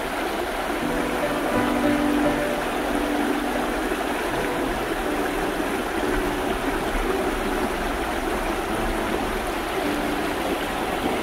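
A river flowing along a woodland trail near a mill in a Yorkshire valley, giving a steady, moderately loud burble and rush of water that carries on unbroken throughout, with no talking.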